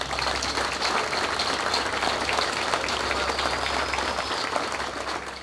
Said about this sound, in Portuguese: é merecedor pela qualidade com que a realizou, de uma calorosa salva de palmas